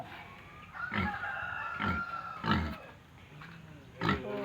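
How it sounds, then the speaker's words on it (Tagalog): A sleeping sow on a farm grunts softly while her piglets nurse, giving about five low, evenly spaced grunts that are close but faint against a quiet background. "Sarap ng tulog ni Mama Pig, oh"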